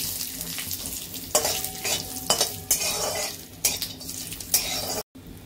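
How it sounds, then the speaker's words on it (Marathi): Grated coconut roasts in red oil in a pan while a spoon stirs and scrapes it, giving a steady close sizzle broken by repeated clinks and scrapes, before a brief cut near the end. "हे सगळं आता खोबरं लाल तेल टाकून भाजून घ्यायचं, म्हणजे मग चांगलं भाजलं जातं ते लवकर।"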